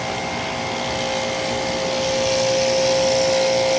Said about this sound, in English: You definitely don't want to stick the pressure washer into the nasal cavity from the front side